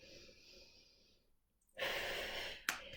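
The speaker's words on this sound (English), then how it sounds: "think about what's going on with your hip, with your ribs, while you inhale and exhale" Heavy, close breaths drawn in and out during a hip and rib exercise, with a quiet stretch of steady airflow that pauses before a louder, fuller exhale and a sharp catch at the end.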